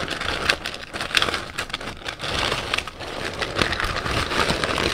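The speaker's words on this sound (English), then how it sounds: "I'm gonna add some crushed ice to my glass." Crushed ice is tipped into a drinking glass, giving a close, continuous crunchy rattle and clatter of small fragments that lasts throughout, with no voices.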